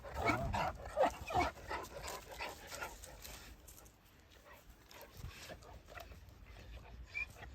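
Boz çoban shepherd dogs, including a lively young female, bark and whimper in a few close bursts early on, followed by quieter yips, with people talking over and around the dogs.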